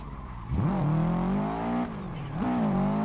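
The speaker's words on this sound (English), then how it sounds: "car has such a good sound too" Engine of a Subaru drift car in the Assetto Corsa racing game, revving loud and close with rising and falling pitch sweeps as the car slides, two strong throttle surges across the stretch.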